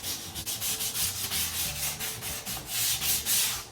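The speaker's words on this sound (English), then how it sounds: "we're going to gently sand our wood." Wood is sanded by hand in a series of rhythmic, close scraping strokes, about a dozen rough back-and-forth rubs at a steady pace with no talking.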